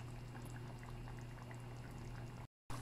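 Pork binagoongan sauce bubbles steadily in a pot as it simmers and reduces, a continuous close boiling hiss with small pops, cut by a brief silent gap near the end.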